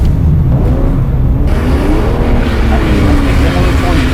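Car engine revving hard while drifting on a track in a Subaru GDB, a loud, close, sustained roar with rising pitch as it accelerates, dominating throughout.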